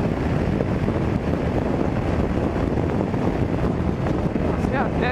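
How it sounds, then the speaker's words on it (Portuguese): Heavy roaring wind buffets the microphone on a BMW G 650 GS motorcycle cruising at 120 km/h, a loud constant low rumble and rush filling the whole clip. "O problema é que é o vento, tá empurrando pro lado aqui."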